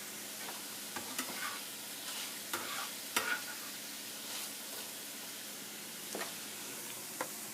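Top Ramen noodles and mixed ingredients fry in a pan while being stirred and separated with a fork, a soft continuous sizzle broken by scattered scraping and clacking strokes, close and with no voices.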